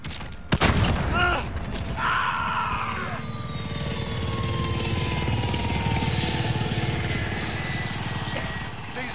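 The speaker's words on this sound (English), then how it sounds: "Friendly support helo inbound." Support helicopter arriving in Call of Duty: Modern Warfare, a steady rotor and engine drone that swells and holds for several seconds beneath explosions and gunfire, with some game voice chatter mixed in.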